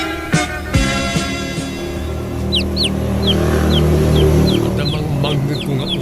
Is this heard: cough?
no